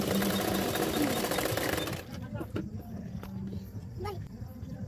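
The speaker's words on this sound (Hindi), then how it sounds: "उसको फोल्ड करते हुए और एक सिलाई डाल दूंगी।" Sewing machine stitching a blouse, a fast steady mechanical rattle for the first two seconds, then fading into quieter handling sounds while someone talks.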